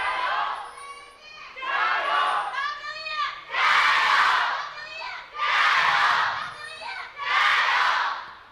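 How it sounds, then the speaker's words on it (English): Fans of Team WE packed into the Shanghai esports arena during an LPL Spring 2018 match roar and chant in rhythmic swelling waves, loud and crowded, with several distinct surges. "The fans are cheering in the arena"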